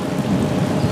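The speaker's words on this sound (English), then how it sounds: "Check out that downpour, man." A sudden heavy rain downpour near a lighthouse, a loud, dense, continuous wash of rain with a low rumbling undertone of thunder.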